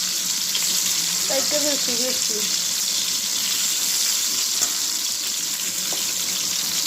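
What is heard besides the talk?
eggplant slices frying in hot oil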